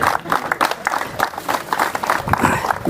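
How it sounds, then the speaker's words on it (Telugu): An audience claps in a steady, lively patter of many hands at a graduation and felicitation gathering, continuous and fairly loud throughout. "Claps, claps, everyone."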